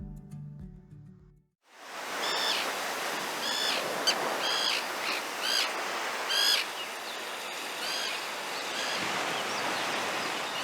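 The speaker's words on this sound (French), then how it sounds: "laissez-vous porter par les sons afin de vous fondre au cœur d'une colonie de sternes pierre-garins et de sternes naines" A breeding colony of common terns and little terns calls constantly, many harsh, overlapping cries rising over a steady roar of wind or surf after a brief quieter opening.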